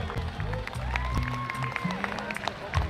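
Crowd applauds a musician at a live event, clapping mixed with voices and murmuring, a moderately loud, busy round that carries on under chatter.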